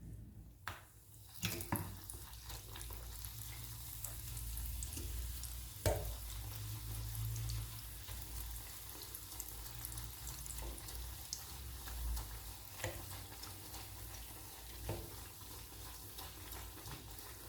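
Fish frying in hot oil, a steady broadband sizzle running throughout with occasional clinks and stirring sounds, fairly close, with no talking.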